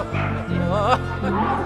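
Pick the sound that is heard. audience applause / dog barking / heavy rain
dog barking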